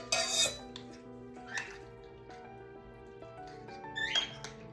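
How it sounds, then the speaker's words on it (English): A spoon clinks and scrapes against a bowl while green bean casserole ingredients are mixed with a little water, giving a few ringing taps and scrapes, quiet and close. "I just mix that all together again"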